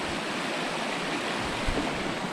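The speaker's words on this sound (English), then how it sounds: "There's just not that much water in this creek, but I mean enough" A shallow creek along the Green River Lakes flows with a soft, steady rush of water, close by and alone.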